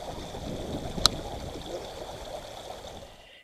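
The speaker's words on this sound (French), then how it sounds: "Vous entendez le ruisseau, là?" A stream flowing beside a motorhome campsite gives a steady broadband rush and trickle, with one brief sharp click partway through before the sound tapers off at the end.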